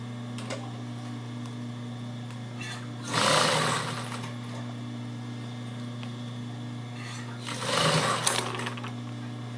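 A sewing machine stitches bias binding around the edge of a fabric toiletry bag in two short bursts of rapid whirring, separated by a quiet pause with a steady low hum underneath.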